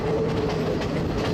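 Train running on rails through the hills near Ella, Sri Lanka, a steady low rumble with faint rhythmic clatter of wheels, heard from on board, continuous and fairly loud with no voices.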